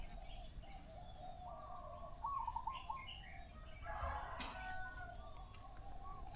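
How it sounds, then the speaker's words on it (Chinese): Birds chirp and call in the early morning in Chiang Mai, Thailand, with scattered tweets and a dove-like cooing over a steady outdoor background, moderately close and fairly faint. "早上最活跃的就是鸟了，"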